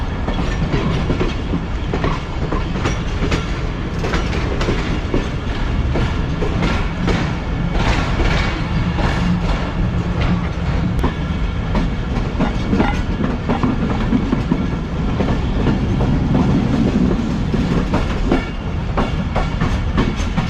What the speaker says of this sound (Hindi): फिलहाल ट्रेन हमारी ट्रैक चेंज करके मेन लाइन की तरफ आ रही है